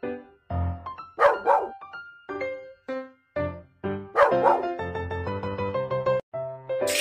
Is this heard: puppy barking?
yes